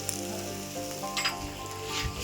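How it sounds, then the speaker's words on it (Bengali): Spice paste of Kashmiri chili, turmeric and coriander powder frying in oil for potol chingri, a loud close sizzle with scraping stirs from a spatula, no speech. "এটা কষাবো এবার এটা থেকে যতক্ষণ তেল না ছাড়বে ততক্ষণ একটু নাড়াচাড়া করবো"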